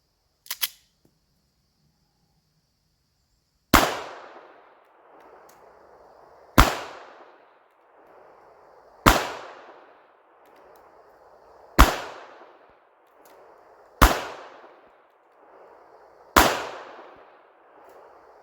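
A P32 pistol firing 71 grain ammunition at about 3 yards, six sharp, loud shots spaced roughly two to three seconds apart after an earlier click, each followed by a short decaying echo.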